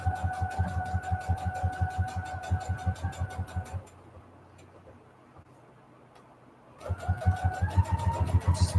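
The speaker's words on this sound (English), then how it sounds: "let's just straight stitch here. And we're just going to do a little border." Sewing machine straight stitching a border on faux quilt junk journal pockets, a rapid, even mechanical chatter with a whining motor, pausing for several seconds before resuming at the same pace.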